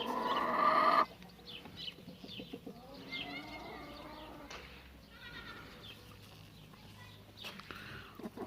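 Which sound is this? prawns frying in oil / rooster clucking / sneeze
rooster clucking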